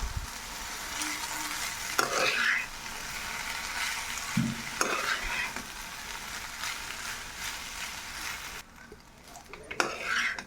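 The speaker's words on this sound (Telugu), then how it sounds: "ఇప్పుడు దీనిలో రైస్ వేసేసుకోవాలి. ఇదంతా ఒకసారి బాగా కలుపుకోవాలి." Cooked rice is stirred into mango pulihora in a pan with a spoon, giving sizzling frying noise broken by several scraping, clinking stirs against the metal at irregular intervals.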